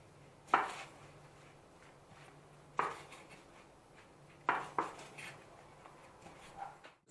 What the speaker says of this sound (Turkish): Sırada ekmeklerimi şöyle küçük küçük doğrayacağız arkadaşlar.